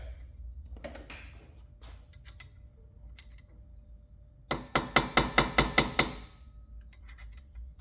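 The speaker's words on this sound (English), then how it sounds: "I normally use just a small screwdriver and just make my way around and then just pop it off" A small screwdriver pries and pops a cap off a Subaru SVX rear axle, with quiet scattered clicks and then a quick run of about eight sharp metallic snaps close by.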